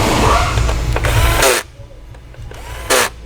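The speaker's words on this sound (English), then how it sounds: "all we got to do is tighten down our 4 T30 bolts," A power tool runs in short whirring bursts while tightening T30 bolts on a Chrysler/Dodge/Jeep 2.4-litre engine, loud and close, one long run then a pause and a quick second burst.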